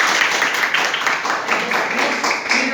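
Students in a classroom clap together in a rhythmic burst of pulsing claps, moderately loud and close, with no talk over it.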